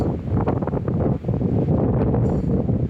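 Steady, loud low rumble of wind buffeting a microphone, gusting continuously for a few seconds with no voices.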